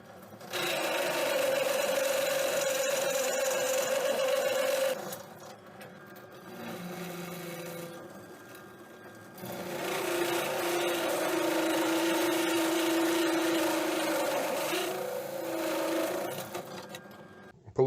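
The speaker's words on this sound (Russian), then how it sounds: "Дальше взял коронку по металлу на 20 мм. Сейчас будем расширять отверстие в пластине." A 20 mm metal hole saw cuts to widen a hole in a steel plate, giving a steady grinding whine in two long bursts with a quieter stretch between them. No voices are heard.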